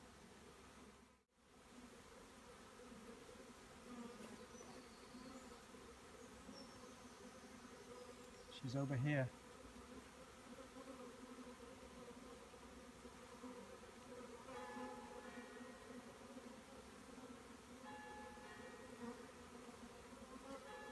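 A swarm of honey bees hums in a steady, faint, continuous drone outdoors with rain starting, while a person speaks briefly partway through.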